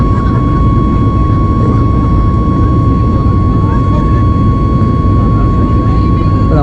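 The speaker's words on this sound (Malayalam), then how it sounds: "നമ്മുടെ ഫ്ലൈറ്റ് ടേൺ ചെയ്യേണ്ടിരിക്കുകയാണ്" Steady, loud cabin roar of an airliner banking into a turn shortly after takeoff from Delhi, a dense broadband engine drone with a faint steady tone running through it.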